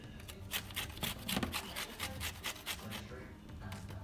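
An orange being zested for candied yams, quick repeated rasping strokes of peel against a grater, close and fairly quiet, in a brisk steady rhythm.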